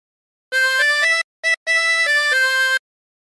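A chromatic harmonica plays a phrase of Battle Hymn of the Republic as clean sustained blown and drawn notes in three bursts with a short gap, bright and close, with no voices.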